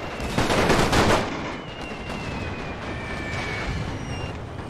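Machine gun fire in a Great War mod of Napoleon: Total War, a dense crackling burst up front that eases into a steadier rattle of distant automatic fire.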